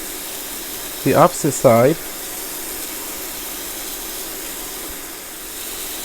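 Cheeseburger patties sizzling in a pan over medium-high heat, a steady, faint broadband hiss running throughout, with a short spoken phrase over it early on.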